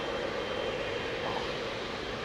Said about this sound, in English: How low the Dreamliner is compared to the 350, man.